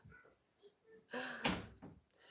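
A door is pushed shut indoors at home, giving one solid thump with a rattling burst that fades quickly. Low voices murmur faintly before and after it.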